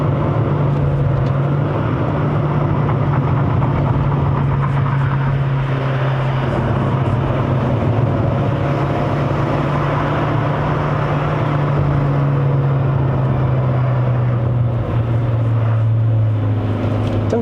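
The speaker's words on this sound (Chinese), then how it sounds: "像这样过一个弯，点一点油门，" From inside a 2020 Toyota Harrier XU80 hybrid cornering and accelerating on a Malaysian mountain road, a loud, steady drone of engine and road noise holds throughout, its pitch shifting slightly near the end.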